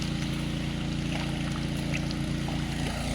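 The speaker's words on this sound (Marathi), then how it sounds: "तर बघा इंजनानं पाणी सोडतो आहे बघा" A steady engine pump drones continuously with a low pulsing throb, while water rushes through a pipeline to a rice seedling field at a constant level.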